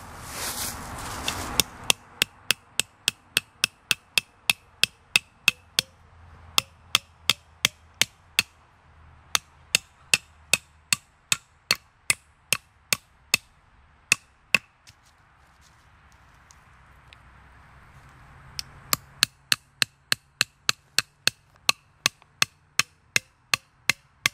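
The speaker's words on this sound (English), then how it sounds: "we're going to use the head of the flashlight as a hammer" Steady strikes from a Surefire 6PX Pro flashlight head used as a hammer on nails into wood, dozens of sharp knocks in quick regular bursts, with a short pause midway before the tapping resumes.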